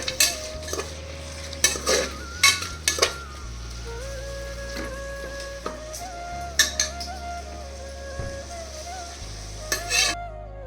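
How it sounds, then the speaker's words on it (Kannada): Chopped onions fry in a pan for egg biryani while a spoon stirs them, giving a steady sizzle broken by repeated sharp metallic clanks and scrapes against the pan. "ಈರುಳ್ಳಿ ಚೆನ್ನಾಗಿ ಫ್ರೈ ಆಗಿದೆ."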